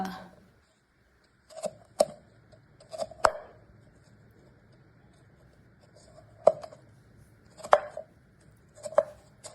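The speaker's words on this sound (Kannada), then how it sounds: "ನಾನು ಮಾವಿನಕಾಯಿನೆಲ್ಲ ಈ ಥರ ಕಟ್ ಮಾಡ್ಕೊಳ್ತಾ ಇದ್ದೇನೆ." A knife chops through firm raw mango on a board in sharp, irregular cuts, cutting thick pieces for pickle, several strokes spaced out with quiet pauses between them.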